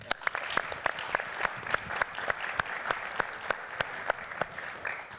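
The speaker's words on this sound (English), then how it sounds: "round of applause for all of our incredible talks today" An audience at a Mac admin conference panel applauds the day's talks. Steady, moderately loud clapping runs throughout, with individual sharp claps standing out over the wash.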